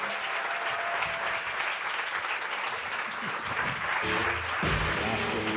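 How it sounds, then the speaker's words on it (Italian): A crowd at a talk applauds speaker Salvatore Brizzi with a full, continuous wash of clapping that stays loud throughout, with a faint voice briefly audible near the end. "Facciamo un grandissimo applauso per Salvatore Brizzi."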